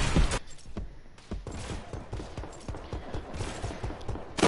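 Rapid gunfire in Fortnite, a dense run of sharp repeated shots and bursts lasting throughout, fairly loud with slight background noise and no talking.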